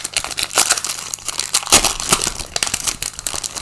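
A Pokémon booster pack's foil wrapper is crinkled and torn open, giving loud, close crackling and rustling that runs throughout with a sharper rip partway through, with no talking.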